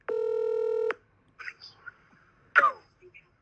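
A phone call begins with a single steady electronic tone lasting nearly a second, followed by faint scattered clicks and a brief louder burst, close and clear, with soft voices.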